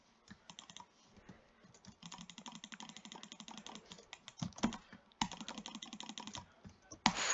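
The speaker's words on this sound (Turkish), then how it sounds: "Mouse'un sesleri de yakıyor ama ya." Rapid clicking of a computer mouse and keys in bursts, close and fairly quiet, with irregular clusters of sharp taps and short pauses between them.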